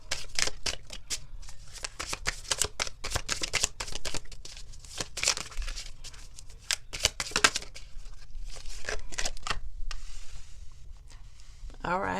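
Oracle cards being shuffled by hand, giving repeated quick riffling and flicking bursts in close, fairly quiet sequences with brief pauses between them.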